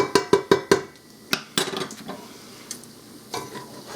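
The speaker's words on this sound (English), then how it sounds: "So I'm taking mine out with a slotted spoon" Crisp bacon lifted out of a soup pot with a slotted spoon: a quick run of four sharp metallic clinks, then scattered scrapes and taps over a faint background sizzle.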